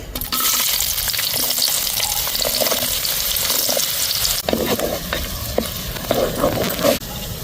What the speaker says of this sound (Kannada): ಇತ್ತೆ ಮೂಲು ನೆಯ್ ಇಜ್ಜಿಂದಂಡ ತಾರದೆಣ್ಣೆ ಪಾಡೋಲಿ ಆ ಮೂಲು ನೆಯ್ ಪಾಡೊಂದುಲ್ಲೆ ತಾರದೆಣ್ಣೆಲ್ಲ ಪಾಡೋಲಿ ಇತ ನೆಕ್ ನೀರುಳ್ಳಿ ಪಾಡೊಂದುಲ್ಲೆ